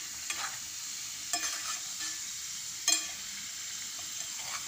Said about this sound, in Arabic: حطيت الزيت خليه يتقلى، خليه يتقلى في الزيت تاعنا